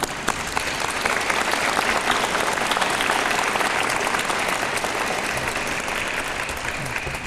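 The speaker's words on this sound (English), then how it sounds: "Let's give our guests a round of applause." An audience at a college presidential inauguration applauds the visiting guests. Broad, continuous clapping from a large crowd swells briefly, then tapers gradually toward the end.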